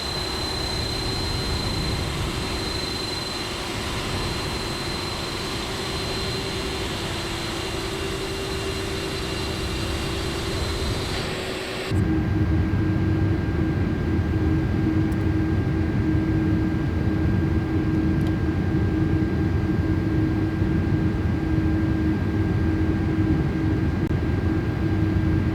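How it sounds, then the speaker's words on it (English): An airliner in Microsoft Flight Simulator 2024 at Paris Charles de Gaulle starts its engines during pushback: a steady cockpit hum and whine that abruptly shifts to a louder, deeper engine drone about halfway through, no talking. "de Gaulle ground pushback and engine start approved"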